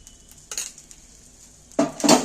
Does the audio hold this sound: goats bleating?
no